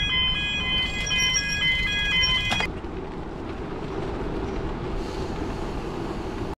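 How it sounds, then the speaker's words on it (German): A train rumbles past on a rural line in the west of Ireland, a steady heavy roar with a tonal horn-like whine early on that cuts off, then continuous rolling noise, fairly close. "Kommt der Zug."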